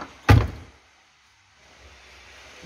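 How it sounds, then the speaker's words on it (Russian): A car door shuts with a single solid, close thunk near the start of a workshop clip, followed by quiet room noise. "Даже двери, смотрите, как закрываются."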